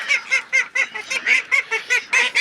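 Young crested ducks, one with a wing problem, give a rapid series of about ten short, nasal honking calls in steady rhythm, close and fairly loud, with no talking.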